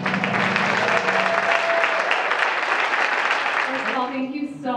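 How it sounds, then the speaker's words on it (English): An audience at an event applauds for two Olympic medalists, dense clapping loud and sustained, then tapering as a voice begins speaking at the end. "please give a round of applause"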